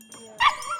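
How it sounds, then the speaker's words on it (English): A dog just arrived from Australia barks once, loud and close, in the loading bay of an airport animal reception centre, after a quieter stretch of faint yips and whimpers. "he's keen to make himself heard"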